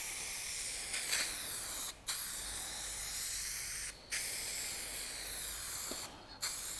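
A spray gun sprays paint onto a car panel in three steady hissing passes, each cut off sharply by a brief pause, close and continuous, with no talking.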